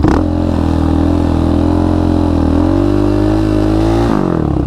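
A quad ATV engine roars loud and close as it revs through a powerslide, holding a steady high-throttle drone that climbs slightly in pitch before the throttle closes near the end, with no talking.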